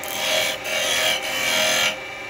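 A 15mm carbide tool cutting a foot into the bottom of a yew bowl on a lathe, a close, continuous rasping scrape in a few sustained passes with brief dips between them.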